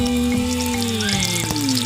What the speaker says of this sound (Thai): ทอดเห็ดโคนน้ำมันลงไป